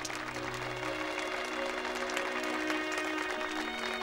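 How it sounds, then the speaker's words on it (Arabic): Applause for a martial arts teacher, a steady burst of clapping from a group that holds evenly for a few seconds without cheering. "صفقوا للمعلم بروسلي"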